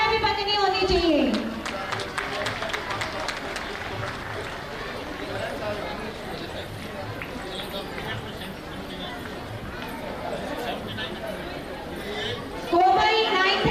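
An audience applauding while a long list of student names is read out at a school event: steady clapping and crowd noise running throughout, with a voice speaking over it.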